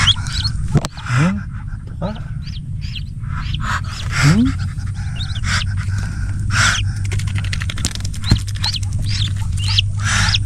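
Dogs on a farm pant in quick, steady breaths, with scattered chirps and a low mechanical hum underneath.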